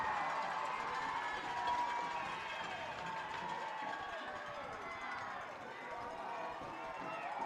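A loud, continuous roar from the crowd at a high school football game between Texhoma-Goodwell and Talihina. It holds steady throughout, with a voice talking over it.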